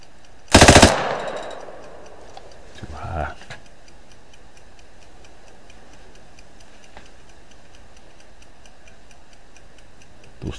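A loud gunshot burst opens the scene in Arma 3 Apex, followed by a fainter second report a couple of seconds later, then quiet game ambience with soft ticking for the remainder.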